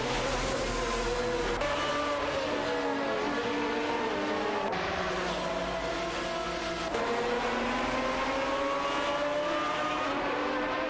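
Racing video game engines, a Ferrari 550 GTS and a Lamborghini Murcielago, howl steadily as the cars race, with pitch rising and falling through repeated gear shifts across a loud continuous drone.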